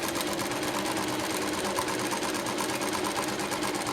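Sewing machine running steadily through a firm straight seam on folded cloth at a stitching class, a close, continuous rapid whirring and ticking with no pause and no talk.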